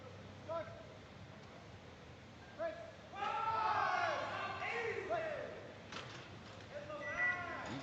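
A crowd at a junior powerlifting world championship cheers and whoops, rising in a surge mid-clip under a commentator's talk, with scattered shouts before and after.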